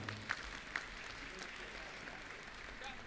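Applause at an education awards ceremony in Delhi, a dense, even wash of many hands clapping at a distance, fairly faint and continuous, with a few sharper claps and faint voices mixed in.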